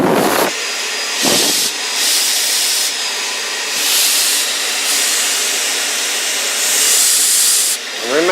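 A Maxi-Miser 3000 paint spray gun sprays in several loud, airy hissing bursts of about a second each, with steady compressor-like hiss between them and no talking.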